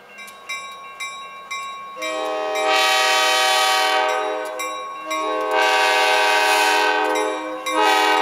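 Clattering rail sounds lead into a gravel train locomotive's loud, sustained horn blasts, two long blows with a short break between, close by, as it backs a single gondola car in northern New Hampshire.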